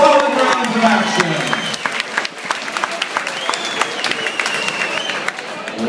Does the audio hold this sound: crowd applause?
yes